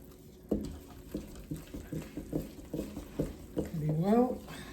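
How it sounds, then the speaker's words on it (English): A food mixture is stirred in a pot while cooking, making soft, repeated scraping and clinking strokes at a steady pace, close by. A voice cuts in near the end. "And then mix it up."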